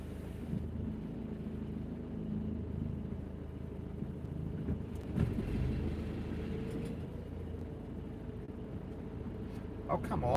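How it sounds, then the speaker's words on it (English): A van engine runs steadily while driving on a straight stretch of road, a continuous low rumble with road and wind noise that swells briefly as it picks up speed; a voice speaks over it. "Oh, that engine sounds so good."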